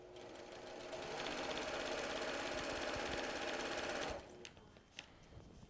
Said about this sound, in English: we're going to stitch all the way down to the end